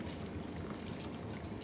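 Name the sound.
melted butter poured into a bowl for brownies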